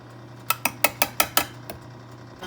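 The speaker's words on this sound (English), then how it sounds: "I'm putting it in the oven" A metal cake pan holding a coconut semolina cake slides onto an oven rack, producing a quick series of about six sharp, close metallic clinks and rattles followed by a softer final knock.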